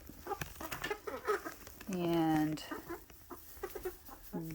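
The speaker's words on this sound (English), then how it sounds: "that one right there, that clucker, he's a butthole. But he's still my chicken" Chickens cluck around a farmyard during morning chores, with one louder drawn-out call in the middle and scattered short clucks before and after, near and mixed with a person talking.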